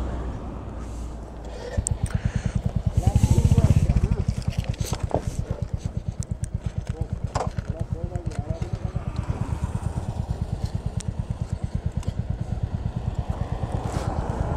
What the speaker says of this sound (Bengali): আমি ইমরানের R15টাই চালাচ্ছি।